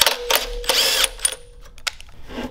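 A socket wrench with a 13/16 socket removes the spark plug from a Tillotson 212 small engine. Quick, close bursts of ratcheting clicks and metallic mechanism noise stop and start over a couple of seconds.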